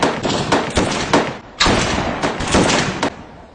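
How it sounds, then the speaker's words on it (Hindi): A rifle fires a five-round group: a close, loud run of sharp reports and thumps in quick, uneven succession, with a short pause partway through. "5 राउंड ग्रुप फायरिंग।"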